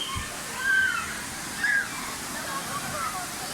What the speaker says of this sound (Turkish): Burası da şelalenin olduğu yer.